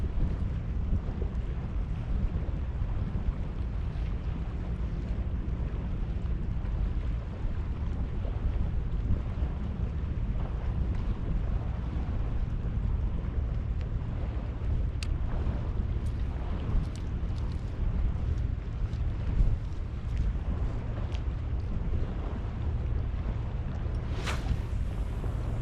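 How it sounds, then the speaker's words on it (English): Wind blowing hard at sea during a fishing session, a steady low roar with buffeting against the microphone and a few faint clicks, no talking. "I don't know where all this wind has come"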